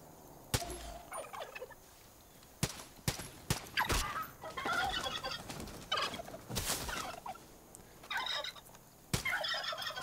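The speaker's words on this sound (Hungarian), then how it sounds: "Bazzeg pulyka," Turkey gobbling inside Far Cry 5, several loud rattling gobble bursts spread across the stretch alongside sharp game effects and scattered crackling noise.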